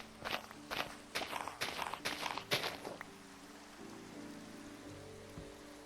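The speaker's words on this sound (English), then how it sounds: "let's get out of the rain" Steady rain hiss in the Minecraft video game runs under several loud, crunchy footsteps in the first half, then continues alone as a softer, even wash.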